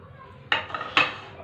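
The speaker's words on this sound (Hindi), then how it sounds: "लहसुन प्याज जो धो के मैंने काट लिए थे वो डाले" Chopped garlic and onion dropped into a pressure cooker with mutton, two quick clattering metallic clinks close by in an otherwise quiet kitchen.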